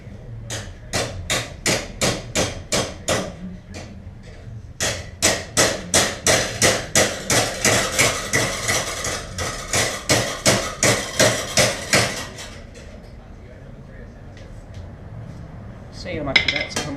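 A mash hammer pounds a metal part during work on an XR100 motorcycle project, steady loud close strikes in fast regular runs, a short pause between bursts, then quiet after the final blows.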